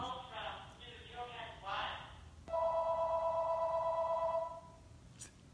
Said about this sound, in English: I'm going to ignore that phone call.